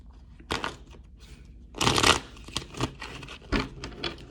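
Tarot cards being shuffled in a few quick riffling bursts and soft slides, close up, with no talking.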